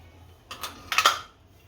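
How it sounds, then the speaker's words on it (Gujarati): A pan set down on a gas stove gives a couple of brief metallic clanks, close and moderately loud, with no talking. "હવે આપણે પેન મૂકશું."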